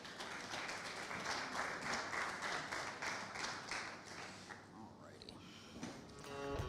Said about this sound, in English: Let's give a round of applause for our judges.